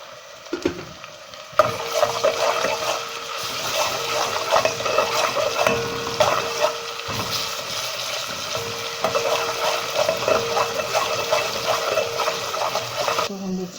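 Garlic-ginger paste frying in a pan for chicken vegetable Hakka noodles, a steady close sizzle with stirring scrapes that runs nearly the whole time after a quieter start.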